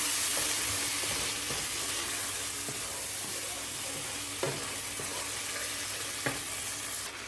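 Ground spices with cinnamon and cardamom frying in a pan, a continuous close sizzle with a few small clinks of stirring, no voices.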